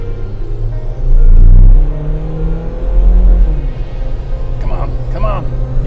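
A Suzuki Jimny with old gear ratios accelerates during a speed run, its engine a loud low rumble that swells and surges. Voices talk over the motor.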